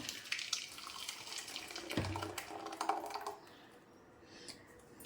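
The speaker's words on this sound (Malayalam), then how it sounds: "അപ്പം ഞാൻ ഈ പാത്രത്തിലേക്ക് ഒഴിച്ചു കൊടുക്കുവാണ്" Wheat flour palappam batter pours into a vessel with a soft, wet, uneven flow lasting a few seconds, including a brief low glug, before tapering off to quiet.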